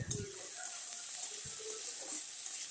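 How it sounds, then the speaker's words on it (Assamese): Potato pieces frying in a pan make a continuous soft sizzle at moderate distance, with faint traces of a voice and a couple of light stirring knocks. "এই আলুখিনি ভালকৈ ভাজি ল'ম।"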